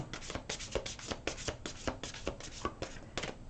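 Angel cards being shuffled by hand, a steady run of soft flicking and riffling bursts, close and fairly quiet, with no talking.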